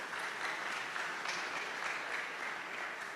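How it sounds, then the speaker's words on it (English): Steady, dense audience applause at a tech conference session, sustained and even throughout with no break, many hands clapping at once in a large hall. "A round of applause for them one more time."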